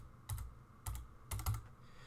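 Quiet keystrokes on a computer keyboard while a password is entered, arriving in three brief clustered bursts with pauses between, close and soft, no voices.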